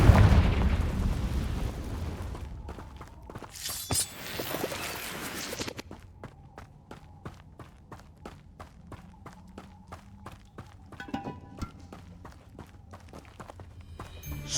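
A Confringo fire spell explodes in the video game Hogwarts Legacy with a loud blast at the start and another fiery burst a few seconds later. Quieter, rhythmic thuds like footsteps follow.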